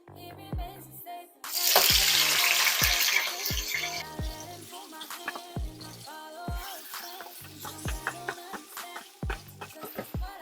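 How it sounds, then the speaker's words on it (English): Blended peppers hit hot oil in a pot for Nigerian cooking, setting off a loud hissing sizzle that swells then settles into steady frying, with repeated knocks and clatter of utensils throughout. "Okay, so this has been frying for over a minute now. I'll just go ahead and add my blended peppers."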